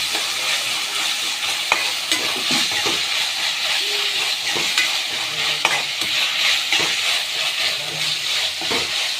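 Ingredients for an egg and drumstick curry sauté steadily in a hot pan, a continuous close sizzle and hiss with occasional stirring clinks and scrapes throughout.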